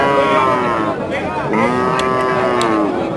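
A cow or bull at Rajshahi City Haat, a large cattle market in Bangladesh, gives a long, loud, deep moo that wavers in pitch and lasts about three seconds, with faint market bustle behind it.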